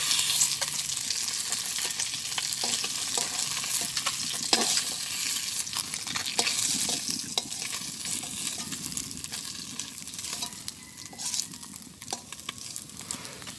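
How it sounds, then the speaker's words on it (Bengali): Fish sizzles and spatters steadily in hot oil in a village kitchen, with occasional stirring scrapes over a constant frying hiss; no one speaks. "তো আমি মাছ ভাজি করবো"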